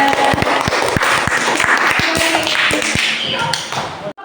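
Classroom applause for a student group, a burst of many hands clapping unevenly with sharp close claps, fading at the end, with some voices mixed in.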